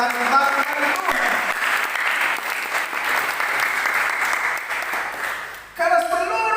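Church congregation applauding during a sermon, a dense, steady wash of clapping that fills the space, with a brief dip near the end before a voice and music resume.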